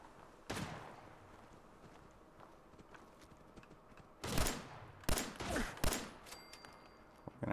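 Gunfire aimed at the player in Fallout 4, sharp isolated cracks followed by a rapid cluster of loud shots, each sharp burst near and distinct over low ambient game noise.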